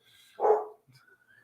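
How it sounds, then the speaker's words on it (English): A dog being dog-sat gives one sharp, close bark, followed by a faint short yip and the start of another bark at the end, with quiet room tone in between. "Got dogs barking."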